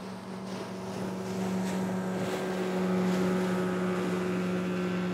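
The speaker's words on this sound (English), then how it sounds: "A motorboat has an engine." Motorboat engine droning steadily at a distance, a constant low hum with wind noise over it, growing slightly louder partway through, no voices.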